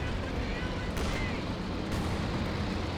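Artillery barrages fire in a Company of Heroes 2 battle, a dense rumbling wash of distant explosions with two sharper cracks about a second apart.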